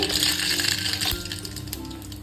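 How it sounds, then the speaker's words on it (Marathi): Mustard seeds hitting hot oil in a pan for matki usal, a dense close sizzle and crackle that is loudest at first and then settles into a lighter fizz. "तेल गरम झालेलं आहे मोहरी टाकते"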